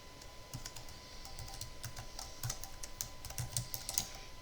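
Computer keyboard typing with quick, irregular key clicks at moderate closeness while data is entered into an Excel spreadsheet, fairly quiet and steady throughout.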